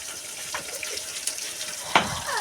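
Cut sweet bananas are rinsed under a running tap in a home kitchen, with a steady, close stream of water and a few splashy knocks as the pieces are handled.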